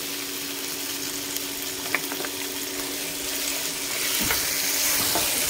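Masala fries in oil in a pan with a constant dense sizzle. Occasional soft scrapes of stirring sound up close, and the frying swells slightly louder toward the end.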